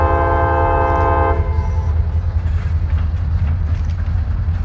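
A Lhoist B23-7 diesel freight locomotive passes in Daysville, Tennessee, its horn sounding steadily at first before giving way to a loud, continuous rumble of engine and rolling railcars up close.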